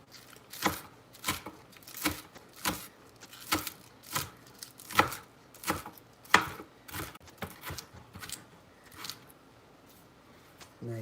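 Knife chopping green onions finely on a cutting board: a steady series of crisp, close blade taps in irregular rhythm, alone with no talk.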